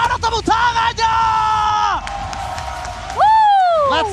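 A large esports arena crowd at the M5 World Championship grand final of Mobile Legends cheers, yells and whoops in loud sustained roars with some clapping, while a caster shouts over it.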